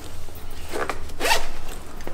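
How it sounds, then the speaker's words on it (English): A zipper runs along the front of a Love and Care Dreamtime baby co-sleeper, giving two short, close rasping pulls over a quiet room. "Again, zippers at the front."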